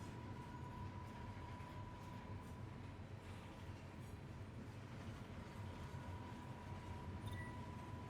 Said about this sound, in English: Notches is free to roam about the train until it arrives.